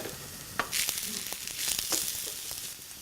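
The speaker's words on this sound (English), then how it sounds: "I'm going to add a medium diced onion, and I'm going to let those sweat out really nicely until they're soft and translucent" Medium diced onion in oil in a sauté pan, starting with a sharp clatter and then a loud hissing sizzle that rises, swells again and fades, with a few faint knocks and no talk.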